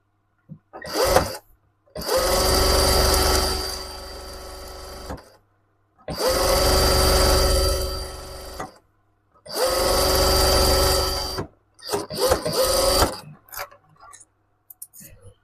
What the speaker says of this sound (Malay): Potong, jahit lagi satu round atas garisan yang sama.